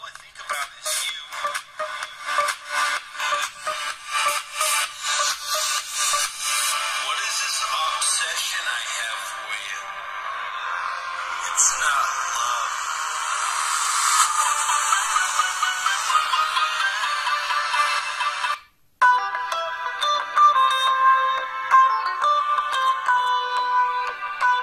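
Ringtone melodies from a Nokia Q200 phone's Yamaha speaker, loud and bright, playing continuously as several tracks with a brief silent gap between them near the end.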